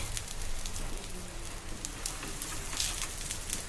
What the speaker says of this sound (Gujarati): હવે આપણે એમાં મૂકી દઈશું આ રીતના ફ્રાય કરવા માટે.